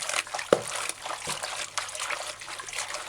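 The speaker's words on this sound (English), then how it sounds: "Wash the bok choy properly. Take each leaf, use a finger and rub the leaf clean." Bok choy leaves are rubbed and swished in a bowl of water, giving soft trickling and light splashing with a couple of sharper clinks, close and fairly quiet.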